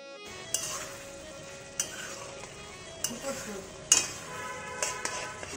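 Luchi, deep-fried Bengali puffed flatbread, crackles in hot oil on a gas stove in a home kitchen, a soft steady sizzle broken by several sharp metallic clinks of a utensil against the pan, with faint talk.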